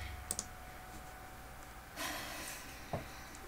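Mouse clicks on a computer while opening the Minecraft launcher: a quick double click near the start, then a single louder click a few seconds later over faint room hiss.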